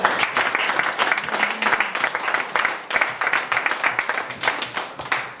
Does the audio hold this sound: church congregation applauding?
yes